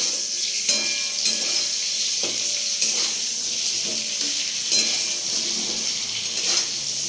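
Fish fries in hot oil with a steady bright sizzle, broken by occasional sharp spattering pops and clinks, close by and without talking.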